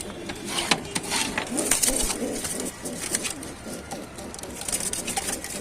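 Pigeons coo softly amid a busy flutter of wings and rustling, a dense flock of pigeons for sale in Tanta, Egypt, heard up close without talk.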